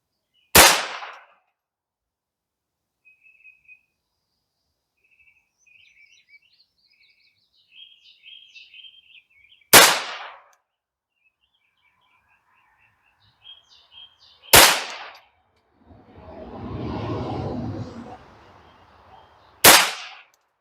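Four sharp, isolated cracks from a Ruger MKII Competition Target .22LR pistol firing CCI Mini Mag ammunition, spaced several seconds apart outdoors, with faint birdsong and a brief rustling noise between shots.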